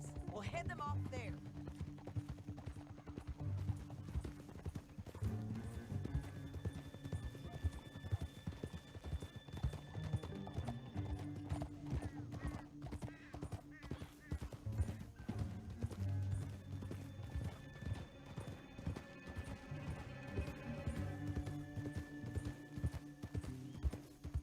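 Steady clip-clop of horse hooves at a brisk pace in a canyon throughout, with occasional whinnies and some voices mixed in, fairly close and continuous.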